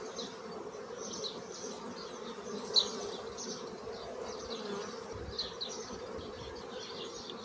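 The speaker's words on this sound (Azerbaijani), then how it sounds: "Arıları biraz narahat elədik." Honey bees buzz steadily around an opened hive, a dense droning swarm with brief louder passes of single bees close by.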